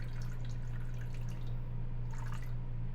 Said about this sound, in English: I'm gonna go ahead and put in the rest of the ingredients. I want about a cup of water